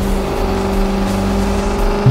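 A yellow sports car in a racing video game roars at speed, a loud steady engine tone with a high whine holding throughout the short stretch.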